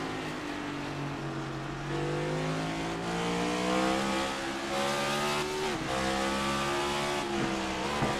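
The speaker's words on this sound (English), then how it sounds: "Here, shifting down to 3rd." Race car in iRacing at Martinsville downshifting to third gear, the engine note dropping and rising again in a clear tonal whine through the shift, with tire noise underneath and no talk.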